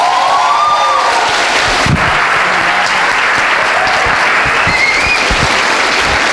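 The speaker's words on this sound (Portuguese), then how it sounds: "Gente, uma salva de palmas." Enthusiastic audience applause at a medical conference talk, loud continuous clapping from a large crowd, dense and sustained throughout with a few faint cheers mixed in.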